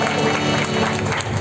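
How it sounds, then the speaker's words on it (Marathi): Loud, dense applause from the audience at a bhajan competition, a continuous roar of many hands clapping that fills the whole short moment without letting up. "जोरदार टाळ्या मंडळासाठी होत्या"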